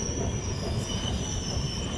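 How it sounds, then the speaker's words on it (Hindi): A moving LTT Mumbai–Banaras Superfast Express rolls on its rails nearing Katni Junction, giving a steady, loud rumble of wheels with high metallic squeal tones that persist throughout. "आज भी ये ट्रेन लेट चल रही है, ये हमेशा ऑलमोस्ट लेट ही चलती रहती है।"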